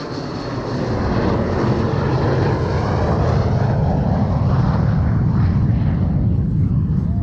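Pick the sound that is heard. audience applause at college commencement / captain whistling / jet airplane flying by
jet airplane flying by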